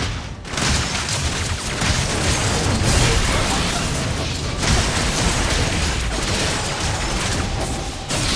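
Turret destruction in the mobile MOBA Wild Rift during a Jinx match: dense, continuous battle noise with repeated bursts and crumbling booms, loud and busy throughout with no talk.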